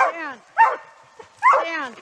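Bear-hunting dogs in the woods near Hayward, Wisconsin bark loudly and close by in a few sharp, strained barks with whining yelps between them.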